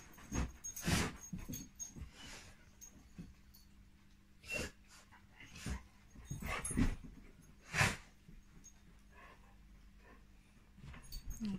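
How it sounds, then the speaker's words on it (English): Dogs play indoors with scattered snorts, sniffs, brief huffs and scuffling bursts separated by quiet gaps, faint and close with no talking. "watching the dogs have a play"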